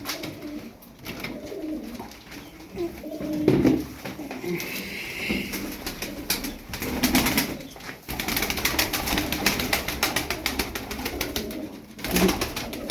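Pigeons coo repeatedly at close range, with low rolling calls recurring through the scene, occasional wing flaps and rustling, and a voice heard faintly in the background.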